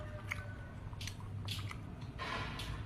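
Someone eating khao tu, a sweet Thai rice snack, with soft squishy bites and chewing at close range, coming in a few bursts with brief pauses between them.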